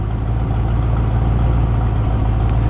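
A 1967 Ford Mustang engine idles steadily after long storage, a close, continuous low rumble with an even exhaust pulse and no talking.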